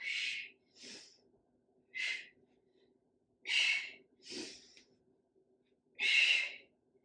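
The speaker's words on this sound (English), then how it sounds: "Inhale, exhale, inhale, exhale." Forceful breaths in and out during a strength-training workout, six close, airy puffs in an uneven rhythm with short quiet gaps between them and no talking.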